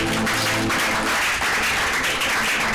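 A church congregation breaks into loud, dense applause that fills the room and holds steady throughout, with a faint voice at the very start.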